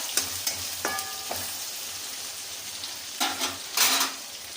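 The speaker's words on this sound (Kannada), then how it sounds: "ನೋಡಿ ಟೊಮೊಟೊ ರಸ ಬಿಡ್ಕೊಳ್ಳೋ ತನಕ ಚೆನ್ನಾಗಿ ಫ್ರೈ ಆಗಬೇಕು." Tomatoes fry in a pan with a soft, faint sizzle under intermittent scraping and clinking as they are stirred, the stirring coming in short bursts.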